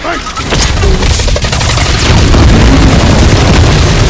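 A dragon is blown up in Marvel's Guardians of the Galaxy with a loud, sustained explosive roar, crackling debris and rumbling bursts filling several seconds after a brief quieter lead-in.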